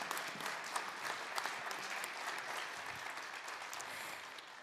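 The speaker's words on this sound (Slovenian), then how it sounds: "En velik aplavz in še enkrat iskrene čestitke" Steady audience applause at a Slovenian woodworking industry awards ceremony, a dense wash of clapping from a sizable crowd holding evenly for several seconds without speech.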